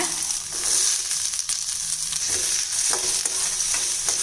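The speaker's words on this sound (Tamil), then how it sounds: "நம்ம சேர்த்த வெங்காயம் ஓரளவுக்கு வதங்கிடுச்சுங்க" Steady oily sizzling of onions frying in a pan, with occasional scraping stirs, close and continuous without any talking.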